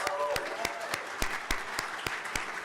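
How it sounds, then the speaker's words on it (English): A round of applause at a benefit dinner, with sharp individual claps standing out in a regular rhythm over a softer crowd clapping bed, fairly close and moderately loud, with faint murmuring voices underneath. "Give yourselves a round of applause"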